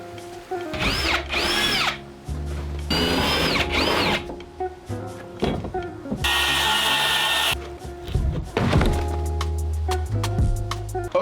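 A power drill with a drill bit bores into the wooden wall of a timber frame barn, whining up in several bursts with pauses between, loud and close, with rough woody grinding and no talking.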